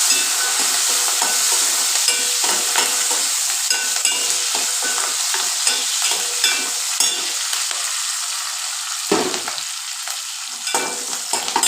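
A pan of gongura with dried shrimp curry fries and gets stirred, a loud continuous sizzle with scattered scraping clicks of the spoon, close and without talk.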